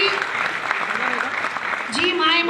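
An audience claps continuously at a moderate level throughout, with a voice speaking over the applause.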